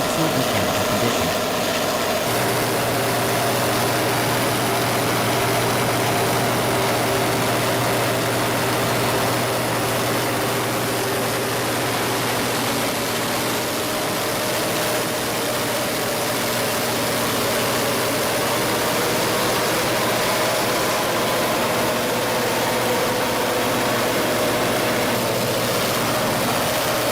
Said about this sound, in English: During the load bank test, the generator is brought through incremental load steps